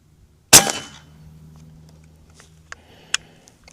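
A .45 caliber airgun fires a 170 grain pellet with one sharp, close crack that quickly fades, followed a few seconds later by two faint, brief clicks or knocks.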